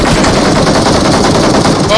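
Gunfire in the video game PUBG, a loud continuous burst of rapid automatic shots dominating the sound, with players' voices mixed in underneath.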